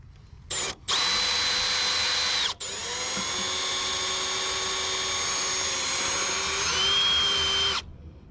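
A power drill with a 1/8-inch bit whines in short bursts then a longer sustained run, pitch shifting slightly as it bores, loud and close with no talking.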